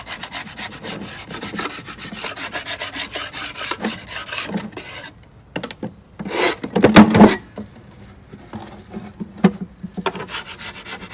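Propolis being scraped off a wooden beehive floor during hive cleaning, with rapid repeated rasping strokes close by in uneven bursts and short pauses between.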